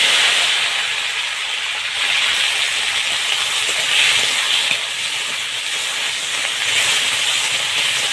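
Potato pieces frying in hot oil in a pan where fish was just fried, a loud, dense steady hiss and sizzle that holds evenly throughout with no talk.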